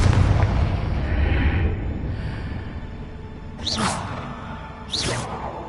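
Confringo fire spell blasts in Hogwarts Legacy, a dense rumbling explosion bed with two sharp whooshing bursts near the end, loud and continuous with no voices.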